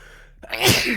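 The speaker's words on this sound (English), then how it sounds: "I've been sneezing a lot today." A single sharp sneeze bursts out after a brief quiet moment, close and fairly loud, with a breathy intake leading into it.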